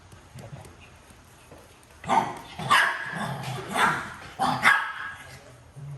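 Dogs barking in several sharp, fairly loud bursts that start partway through and repeat irregularly over a quiet background, with no talking.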